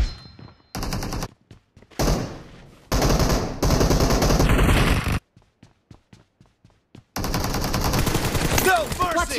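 Dense automatic gunfire rattles in a BGMI gun game match, with long sustained bursts separated by sharper single shots and short quiet gaps, loud and close.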